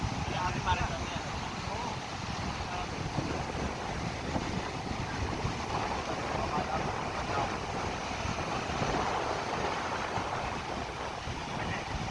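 Strong wind blasts continuously against the microphone, a dense rumbling roar with sea noise underneath, unbroken throughout.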